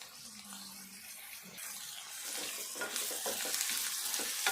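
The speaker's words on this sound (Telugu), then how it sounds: "ఇప్పుడు ఈ ఉల్లిపాయ అంతా మంచిగా దగ్గరికి వచ్చేదాకా మనము ఫ్రై చేసుకోవాలి" Onions frying in a pan with turmeric produce a steady close sizzle that grows louder and brighter, with soft stirring scrapes on top and no talk.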